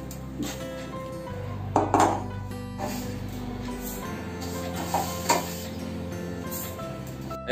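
Rice roasting in a pot, a low steady hiss with occasional clinks and scrapes of a spoon stirring against metal, close but fairly quiet.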